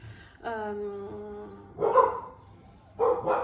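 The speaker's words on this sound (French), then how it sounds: "il y a mes chiens qui aboient" Dogs in a home bark several times: a drawn-out bark or howl first, then a sharp bark, then two quick barks close together, all fairly loud and near.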